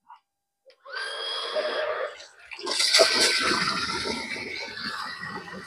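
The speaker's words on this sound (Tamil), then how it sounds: "இப்போ பார்த்தீங்கன்னா மோட்டர் ஆன் பண்ணுறேன்." A small motor pump pushes water through a DIY drip irrigation kit in a terrace garden: a click, then a steady close hiss that swells into a louder, rushing gush of pressurized water.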